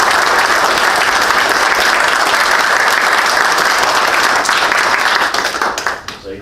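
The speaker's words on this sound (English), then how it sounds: "So let's give Tommy a round of applause for his service." A room bursts into loud, sustained applause for Tommy, a fire chief retiring after 30 years with the city, during a city council work session; thick, continuous clapping that tapers off near the end.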